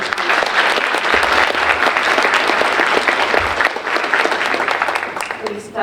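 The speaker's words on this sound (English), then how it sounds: "One more round of applause for our French team" A round of loud, sustained applause from the audience at a high school senior awards ceremony, dense clapping filling the whole stretch before easing slightly at the end.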